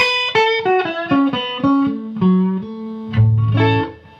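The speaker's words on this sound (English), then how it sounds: "This is the sound now of the major." An electric guitar plays a major pentatonic run, bright single notes stepping downward, then ends on a low, sustained note and a final chord.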